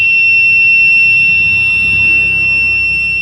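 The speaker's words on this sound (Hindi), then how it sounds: "बजर भी आपका बीप दे रहा है।" A buzzer on a health-sensing device sounds a loud, steady high-pitched electronic tone that holds unbroken for several seconds, close and alone.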